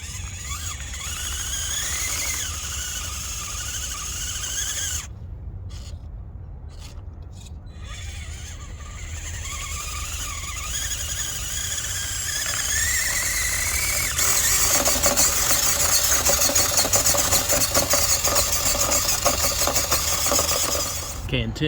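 An Absima CR18 Pro 1/18 scale RC rock van climbs a stairway, its small electric motor whining steadily and loud throughout, pausing briefly mid-way, then rising to a louder, higher-pitched whine near the end.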